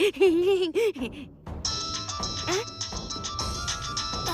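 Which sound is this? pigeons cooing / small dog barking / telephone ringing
telephone ringing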